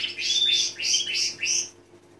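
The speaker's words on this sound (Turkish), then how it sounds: "Erkeğimiz ötüyor, ort yeşil." A green male canary sings a brief burst of bright, rapid trilling phrases, four or five linked warbles close by, then stops.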